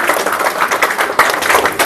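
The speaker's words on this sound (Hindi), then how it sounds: "डॉक्टर साहब के लिए जोरदार ताली बजना चाहिए यारो" An audience at a gathering in Hazaribagh claps loudly for a doctor, a dense burst of close applause filling the whole moment without pause.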